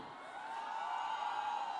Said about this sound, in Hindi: तो एक बार जोरदार तालियां बजाओ ना